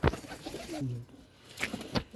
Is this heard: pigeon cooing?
yes